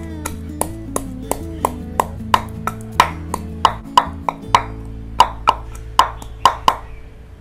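A single garlic clove is crushed and pounded in a steady run of sharp, evenly spaced strikes, roughly three per second, over continuous background music.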